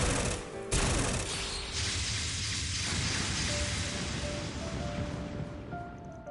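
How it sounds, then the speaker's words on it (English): An enhanced needle gun firing in Trails Beyond the Horizon, a dense rapid spray of hissing, pattering shots that blends into a continuous rain-like barrage. "an enhanced needle gun"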